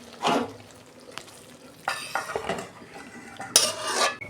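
Cooked stem and potato curry is poured out of a pan, with a few sharp metallic clanks and scrapes of a spoon on the pan over a faint sizzle.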